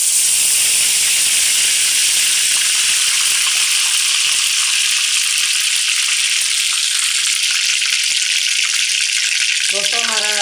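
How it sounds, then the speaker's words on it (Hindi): Cumin seeds sizzle and crackle in hot oil in a pan, a loud, continuous, close hiss with dense popping throughout. "हमारा जीरा थोड़ा से चटक गया"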